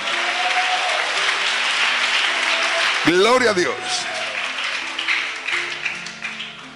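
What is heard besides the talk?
church congregation applause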